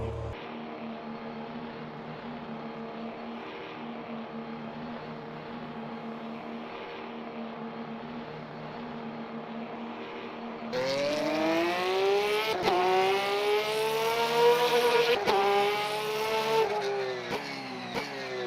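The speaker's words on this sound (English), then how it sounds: "it does sound like a Porsche" A Porsche race car engine in Le Mans Ultimate drones at a steady pitch, then surges loudly, revving upward through the gears with a bright, rising harmonic whine and brief shift breaks.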